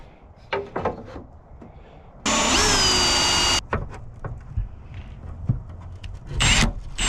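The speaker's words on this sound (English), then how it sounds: "we can drill a pilot hole through here and here." A power drill whirs through fiberglass drilling a pilot hole in one loud burst of about a second, surrounded by clattering and handling noises.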